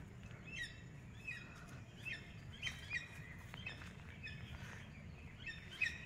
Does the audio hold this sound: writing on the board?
no